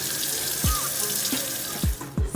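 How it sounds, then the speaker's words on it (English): Tap water runs steadily into a kitchen sink while hands are washed, with a few soft splashes and knocks against the basin close by. "Wash my hands again, real good, real quick"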